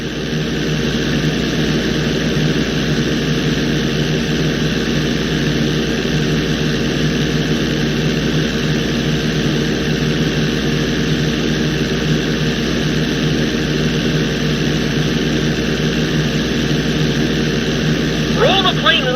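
Continuous loud drone of an airplane engine at steady power in GTA V, the plane flying upside down, unbroken for the whole stretch, with a brief faint chirp near the end.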